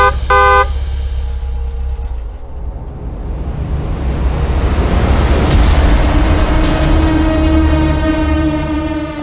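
A car horn toots briefly, then the engine roars steadily louder and closer as the car drives off, with fainter honks rising above the engine noise.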